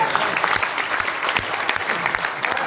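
An audience at a company business-plan seminar breaks into lively, continuous clapping, close and fairly loud, sustained throughout with a faint murmur of voices underneath.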